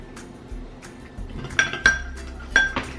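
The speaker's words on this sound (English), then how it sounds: "this glass seems like it's making so much noise" Glass clinking against a hard surface while slime is mixed at home, several sharp bright clinks and clatters, close and fairly loud over soft handling noise.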